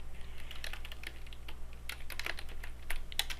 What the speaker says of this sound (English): So erase this, and you can just start typing.